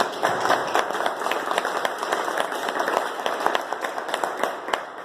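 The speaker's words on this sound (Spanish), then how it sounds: "para que pida un aplauso." An audience at a formal event applauds, with a busy, sustained patter of many hands clapping, fairly close and steady throughout.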